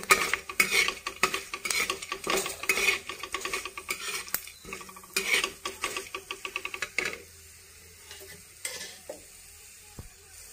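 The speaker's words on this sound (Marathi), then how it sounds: "हे फुटाण्याची डाळ, हे पण थोडं परतून घेऊ ह्याच्यामध्ये तेलामध्ये" Chana dal being stirred and roasted in oil over a wood-fired chulha, with repeated scraping and clattering of a spoon against the pan over a steady sizzle, busier at first and quieter toward the end.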